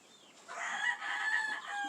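Hens in a henhouse with nesting boxes, brown-egg layers including a black hen, give soft, continuous clucking and low crooning calls up close, fairly quiet and without talk.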